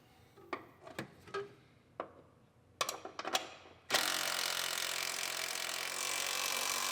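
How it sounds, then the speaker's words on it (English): A ratchet tightens the top bolt of a bracket on a 2013 Buick Enclave AWD, giving scattered bursts of close clicking, followed by a sudden loud, steady broadband rush that runs to the end. "Now we can tighten up the top."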